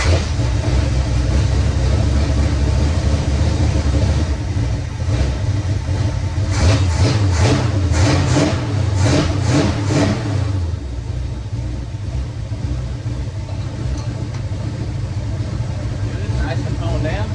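A 1970 Roadrunner engine runs through its newly built exhaust with a deep, steady rumble throughout, broken by a cluster of quick, loud revs near the middle before it settles back to idle.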